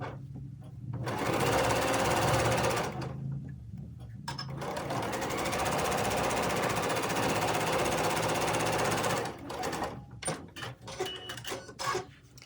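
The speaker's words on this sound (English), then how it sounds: "then we just sew this last seam to finish this bear paw." A sewing machine stitches the last seam of a bear paw quilt block, running in steady rapid bursts up close with a brief pause, then a longer continuous run before stopping into a few light clicks.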